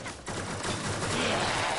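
Gunfire from the video game Warframe, a dense, continuous burst of rapid shots with a brief lull near the start, fairly loud and with no talk over it.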